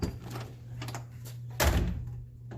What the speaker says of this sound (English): Can I open this back door?